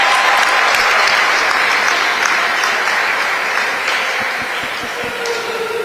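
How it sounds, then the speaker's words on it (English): Steady, loud applause from a crowd in a gym at a women's college basketball game on senior night, continuous dense clapping that tapers slightly toward the end. "Myers and Henderson come out to a round of applause on senior night"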